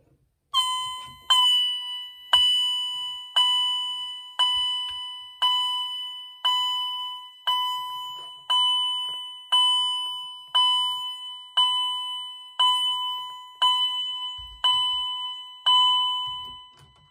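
An EST fire alarm chime rings in a steady repeating pattern, about fifteen loud bright electronic dings roughly one second apart, each decaying quickly, with no talking.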